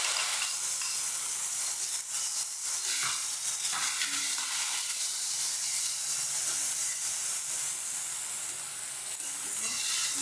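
Puris frying in hot oil, a continuous loud bright sizzle and hiss with occasional bubbling surges, close up and steady with no talk.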